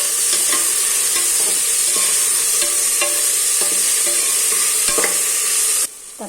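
Chopped tomatoes sautéing in a pan for egg biryani, a constant bright sizzle broken by regular clinks and scrapes of a stirring spoon, close and loud, ending abruptly.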